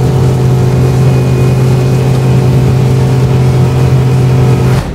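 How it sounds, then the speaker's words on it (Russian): Aluma Fish 5.1 XL motorboat outboard engine cruising steadily at 4500 rpm, a loud, constant low drone with a strong hum that holds even throughout before cutting off at the very end. "Сбрасываем обороты до 4500 и смотрим на крейсер."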